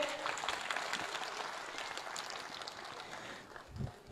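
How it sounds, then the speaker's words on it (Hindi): Applause for a group of children after a devotional song at a gurukul ashram's annual cultural function in Uttar Pradesh, a dense, steady wash of clapping from a crowd that holds for several seconds before tapering slightly. "जोरदार ताली एक बार इन बच्चों के लिए"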